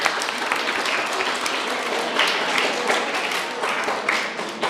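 Applause from a school audience at an inspirational talk, a dense steady burst of many hands clapping that swells slightly in the middle and carries on throughout.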